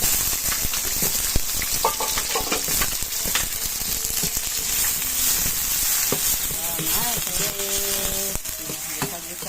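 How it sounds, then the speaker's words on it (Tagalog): Chopped tomatoes and lemongrass sauté in a pan for a spinach and sardine dish. The dense, continuous sizzle runs throughout, with occasional stirring clinks and faint tonal background sounds. "Yan guys, gisa ko na ang sangkap."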